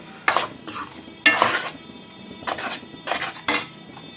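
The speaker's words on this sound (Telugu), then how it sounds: "ఇది కూడా చక్కగా కలిపేసేసుకుందాము." Mango semiya kesari stirred in a pan with a metal spoon, several loud scraping, clinking strokes at an uneven rhythm, close up and with no talk.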